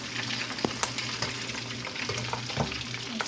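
Crispy pata, a pork leg, deep frying in hot oil makes a dense, continuous crackling bubble up close, peppered with small sharp pops at irregular moments.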